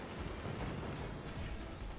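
Dense rumbling barrage of artillery fire and explosions striking a fortress's batteries in the strategy game Forts, a continuous heavy roar at fairly low volume.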